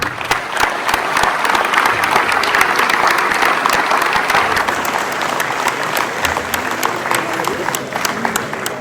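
A crowd applauds the mayor at a welcome and blessing of camper-van travellers in Malestroit, with dense, close clapping that holds strongly for several seconds, then thins slightly.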